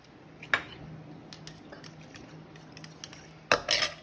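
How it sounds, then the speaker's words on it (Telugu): Custard powder being stirred into hot milk in a pot, with a few faint spoon clinks and scrapes against the metal, including a louder clink near the start and a brief cluster of clatter at the end. "మంచిగా ఇలా మిక్స్ చేసుకొని"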